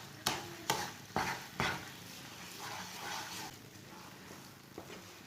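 Phool makhana halwa with sugar is stirred in a pan: four distinct scraping strokes open the passage, then a softer, steady stirring and faint sizzle continue, with one more light scrape near the end.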